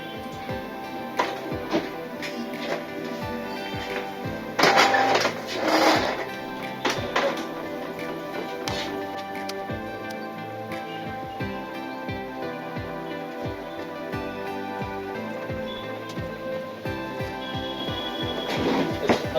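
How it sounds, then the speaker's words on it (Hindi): Printer running a print job for a PVC card, a continuous mechanical whirr with repeated clicks and feed rattles, including a couple of louder bursts, over roughly twenty seconds. "अभी आप देख रहे हैं कि जैसे हमारा एक साइड प्रिंट हो रहा है।"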